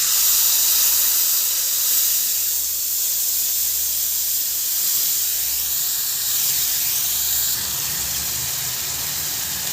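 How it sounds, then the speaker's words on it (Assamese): Tamarind water is poured into a hot pan already holding whole spices, bay leaves and dried chillies, producing a loud, sustained steamy hiss and sizzle that gradually eases while staying strong throughout. "এতিয়া মই এই তেতেলীৰ পানীখিনি দি দিছোঁ ইয়াত।"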